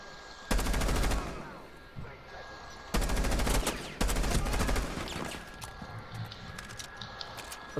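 Gunfire from Rainbow Six Siege rings out in loud bursts of rapid automatic shots, with three heavy volleys and scattered sharper cracks between them, close and dominant over the background.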